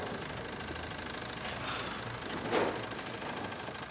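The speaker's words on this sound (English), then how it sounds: "you hear the knocking noise?" A steady, rapid mechanical knocking from a car engine running low on oil, even and continuous throughout, with a slightly louder surge partway through.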